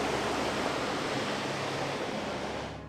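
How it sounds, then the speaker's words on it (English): A waterfall near an old mine on a mountain walk, a loud steady broadband rush of falling water that fades slightly at the end, no voices. "Look at that waterfall there."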